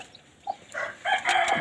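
A mother hen clucks protectively over her newly hatched chicks, a few short, close, rising clucks growing louder toward the end with no talking.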